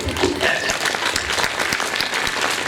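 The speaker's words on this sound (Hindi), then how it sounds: "एक बार तालियों का सम्मान आप कर दीजिए।" An audience at a Hindi spiritual discourse breaks into dense, steady applause that fills the whole stretch, with a voice talking faintly underneath.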